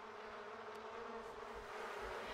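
Bees buzzing near honey in The Sims 4 Cottage Living, a soft, continuous droning hum that stays quiet and steady with no voices.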